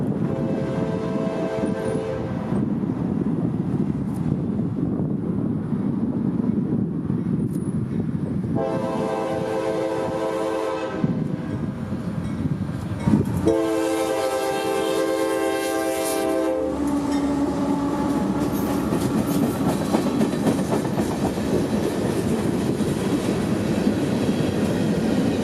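A train on the Brooksville Sub sounds its horn in repeated long blasts, loud and near, over the continuous rumble and clatter of passing wheels and cars.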